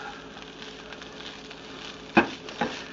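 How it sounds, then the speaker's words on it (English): Already-cooked turkey taco meat sizzles softly in a pan, with a spatula scraping and stirring through it twice near the end, quiet and close. "You hear that sweet sizzling."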